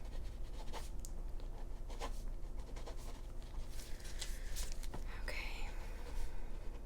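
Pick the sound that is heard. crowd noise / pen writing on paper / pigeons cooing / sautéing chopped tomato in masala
pen writing on paper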